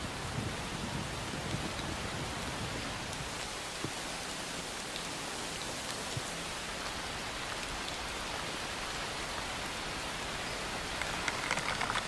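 A heavy rainstorm pours down over Maoer Mountain, the Li River's source and South China's highest peak, as a steady, dense hiss of rain that holds even throughout, with no voices.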